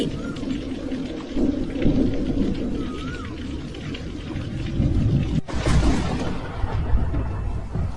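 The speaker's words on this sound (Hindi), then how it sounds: "झोपड़ी का दरवाजा खुला रखकर बारिश देखने लगी" Steady rain pours down, a dense broadband hiss with low rumbling beneath, continuous throughout and fairly loud, with no voices.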